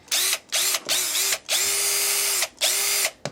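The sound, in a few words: cordless drill running on Black + Decker 20V battery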